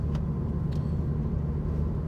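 Car rounding a corner at a set of lights, a low steady rumbling engine and road noise heard from inside the vehicle, with a few faint clicks over the drone.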